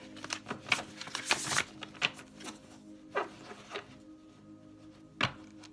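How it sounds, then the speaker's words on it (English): Oracle cards are shuffled in a quiet room, producing bursts of papery riffling and soft slaps that come in uneven clusters, louder at first and then sparser, with no talking. "I just like to shuffle again so that you know nothing is"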